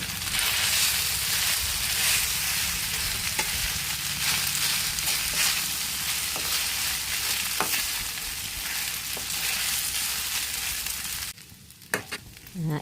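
A spoon stirs boiled vermicelli upma with curry leaves in a hot pan, a continuous close sizzle and scrape with soft clinks, ending with a few sharper knocks after the stirring eases.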